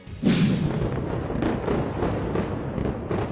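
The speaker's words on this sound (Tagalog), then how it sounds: "Sinundan niya ng sunod-sunod na malakas sa pagsabog." A heavy blast opens a sustained rumbling roar, with further distant booms and cracks rolling through over several seconds, in a series of night explosions over Beirut, Lebanon.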